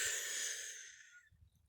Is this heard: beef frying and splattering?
no